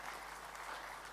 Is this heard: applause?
yes